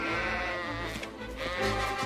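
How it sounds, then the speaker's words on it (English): A sheep in the animated series Watership Down lets out a loud, close bleat, a wavering nasal cry that lasts for most of the two seconds. "I'm trapped under a sheep"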